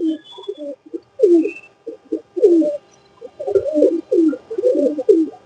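A cross-bred pigeon held in the hand gives a series of soft, throaty coos in repeated bursts, close and clear against a quiet background.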